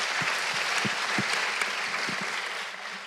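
An audience at a mental health and wellness panel applauds a panelist, a sustained clapping from a medium-sized crowd in a hall with a few distinct nearer claps, fading slightly at the end.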